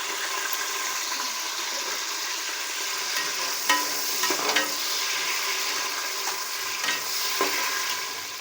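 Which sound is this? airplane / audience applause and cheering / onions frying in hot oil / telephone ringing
onions frying in hot oil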